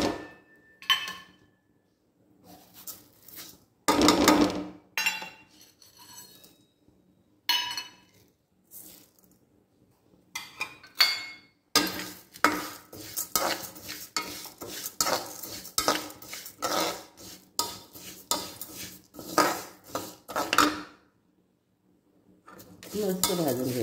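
Fennel and coriander seeds dry-roasting on a tava, heard as scattered scraping and clinking of a utensil against the pan, bursts of rattling stirring with quiet gaps between.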